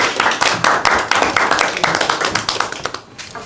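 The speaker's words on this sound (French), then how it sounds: "On l'applaudit bien fort." Audience applause at a press conference launching a tech innovation colloquium and gala, a modest group clapping in sharp, distinct claps that thin out and fade toward the end.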